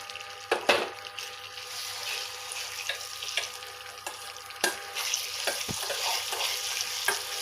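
Hot tempering is poured into nalleru chutney with a steady frying sizzle. Sharp clinks and taps from utensils cut through the hiss, and no one speaks.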